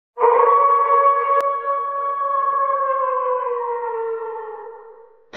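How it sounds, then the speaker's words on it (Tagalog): A loud, sustained howl from an aswang creature in a Filipino horror audio story, a single long wavering cry that holds steady for several seconds, then fades and cuts off abruptly. "nang biglang nakarinig sila ng malakas na alulong"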